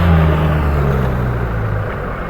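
A car engine hums steadily with low rumbling tones at close range, a vehicle being swapped for one fit to drive a rough, muddy road into a village garden in Riau, with no talk over it.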